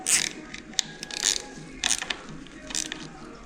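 Screw turned into the fork of a 2014 KTM 690 during a fork seal replacement, giving a run of faint, close metallic ratcheting clicks in short bursts with quiet gaps between them.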